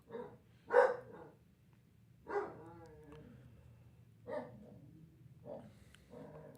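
A pet dog barks indoors in several separate, moderately loud yips and woofs spaced a second or two apart, with faint background sound from a televised basketball game.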